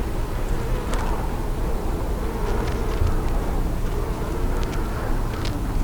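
Honey bees buzz steadily around a hive frame whose cells hold nectar and pollen, a dense close-up drone with scattered individual wingbeats passing near and away throughout.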